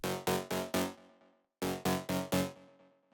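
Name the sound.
Serum synth lead surround preset, gritty electro lead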